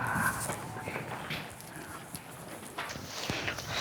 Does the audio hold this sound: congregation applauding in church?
no